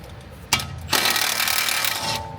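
A ratcheting wrench loosening a bolt on the suspension of a VW Golf R MK7, starting with a sharp crack and then a steady run of fast, close ratchet clicks and rasping.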